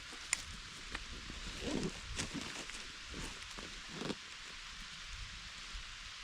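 Light rain pattering softly in a leafy forest, a steady diffuse hiss with faint scattered drops and rustles, quiet and continuous throughout with no voices.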